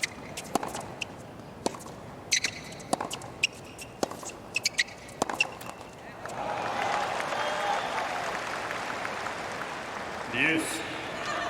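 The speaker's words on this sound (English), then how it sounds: "I suspect there might be a slightly louder cheer than you would normally expect if she wins this game." A stadium crowd at the 2025 US Open quarterfinal between Anisimova and Swiatek breaks from sparse clicks and shuffles into loud, sustained cheering and applause after a game, filling the arena for several seconds.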